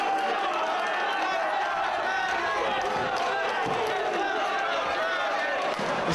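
A loud wrestling crowd in Manhattan roars and jeers without letup against Nigel McGuinness during an ROH World Title bout with Bryan Danielson, a dense wall of cheering and shouting filling the arena.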